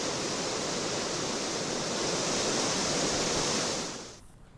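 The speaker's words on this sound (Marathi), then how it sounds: "नाशिकचा सोमेश्वर धबधबा खळखळून वाहतोय" Someshwar waterfall in Nashik gushes during the monsoon rains with a loud, steady, unbroken roar of rushing water that fades out abruptly near the end, with no voices.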